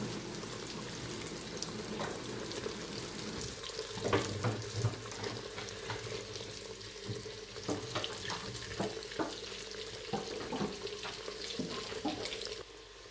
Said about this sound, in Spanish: ahora vamos a freír por último las yucas, que ya tenemos también en tiritas